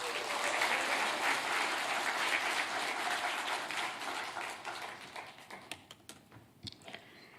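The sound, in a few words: congregation applauding to welcome a speaker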